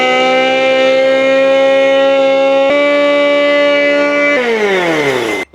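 A cheap $100 supercharger on the world's smallest truck, a roughly 30-horsepower engine, gives a loud, steady, siren-like whine that holds its pitch for several seconds, steps up once, then sweeps downward before cutting off.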